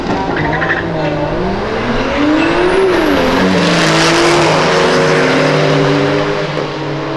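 A Volkswagen Jetta street races a single-turbo BMW M3 making 700 wheel horsepower, heard as loud, sustained engine roar with rising and falling revs and a high whine climbing over it, close and continuous throughout.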